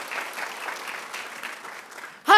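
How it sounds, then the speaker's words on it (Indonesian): A church congregation applauds during a service, a soft, steady spread of clapping that sounds somewhat distant, cut off at the end by a sudden loud voice. "Tepuk tangan dong buat semua hamba Tuhan."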